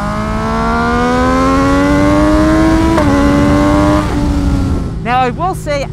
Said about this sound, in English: It's so loud, it's so aggressive.